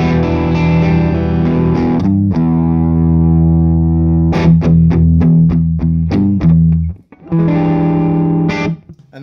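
Electric guitar played straight into a Friedman Dirty Shirley amp with no pedals, loud distorted chords ringing out in sustained blocks, with a few short stabbed hits and brief gaps.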